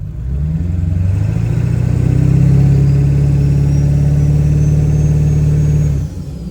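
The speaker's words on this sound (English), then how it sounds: "we're going to go ahead and do a stall test" A truck with a 1,000 hp build, a 4R100 transmission and a Spec Right 2100 torque converter undergoes a stall test on a closed road. Its engine rises into a loud, sustained drone, holds for several seconds, then drops off.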